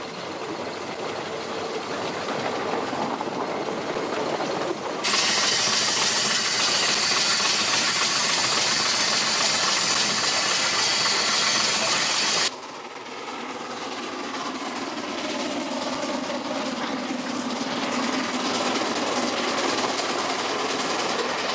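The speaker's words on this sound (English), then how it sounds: "A typical logger's wagon with work cabin attached is part of a recreated period train loaded with timber." A recreated period steam train in New Zealand's South Island, made up of a logger's wagon with an attached work cabin and a timber load, gives a loud, continuous rumbling roar and rail clatter. The level shifts abruptly partway through.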